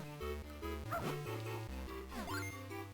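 A game dog in The Legend of Zelda: The Minish Cap gives two short, yappy barks about a second apart, set against bouncy background music.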